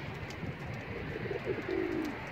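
Domestic pigeons coo in a loft, several low, throaty calls rising out of a steady murmur of birds in the background, the clearest coos arriving toward the end.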